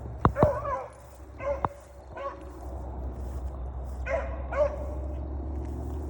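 Three dogs in a kennel bark in short bursts: a pair of sharp close barks, then a few more scattered yaps and whines over a steady low hum.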